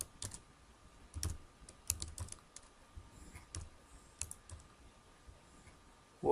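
Someone types on a computer keyboard in short irregular bursts of crisp key clicks, close and fairly quiet, with brief pauses between groups of keystrokes.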